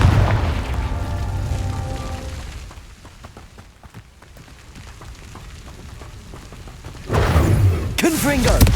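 Confringo fire spell blasts in Hogwarts Legacy land as booming explosions, a loud burst near the start, a quieter rumbling stretch, then fresh crackling impacts near the end, with a voice talking over parts of it.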